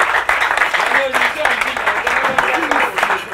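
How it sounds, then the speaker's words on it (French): Audience at the RB Comedy Club applauding a pastor, a dense, steady wash of clapping at close range that holds throughout, with a few faint voices mixed in. "est-ce qu'on peut encore applaudir pour le pasteur Payan"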